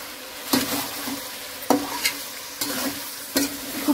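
Chicken with spices stir-fries in a pan, with a constant close sizzle broken by several sharp scrapes and stirs of a spoon against the pan. No one speaks.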